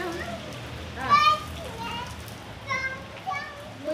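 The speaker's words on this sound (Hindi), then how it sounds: "हाँ बारिश में छम छम छम।" Children play and splash in the rain, their excited high-pitched voices rising in bursts over a soft steady patter of rain and water.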